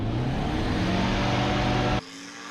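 Kitfox light aircraft engine running loud and steady at full power during a STOL competition takeoff, a broadband roar with low harmonic drone that cuts off sharply near the end, leaving a quieter hum.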